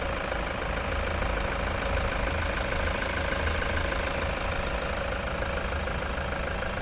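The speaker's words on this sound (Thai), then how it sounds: "ตอนนี้เราสตาร์ทเครื่องยนต์อยู่นะคะคุณลูกค้าสามารถฟังเสียงเครื่องยนต์ได้เลยค่ะ" A grey 2018 Toyota Commuter van with a 3.0 litre diesel engine idles steadily, a dense, constant engine rumble running at even loudness throughout with no talk over it.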